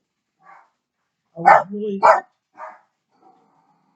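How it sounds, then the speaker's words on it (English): A dog barks a few times close by, short sharp woofs with a brief whimpering tone between them, while someone talks over and around the barks. "That's my dog."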